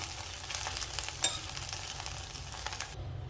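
Green chillies sizzle and crackle in hot oil, a busy frying hiss with a few sharper pops and stirring, cut off abruptly near the end.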